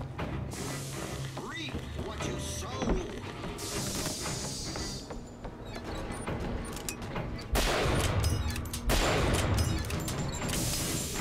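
Steady turret gunfire rattles through a BioShock Infinite battle aboard an airship, a dense continuous fusillade with louder bursts toward the end, while a voice talks over the shooting.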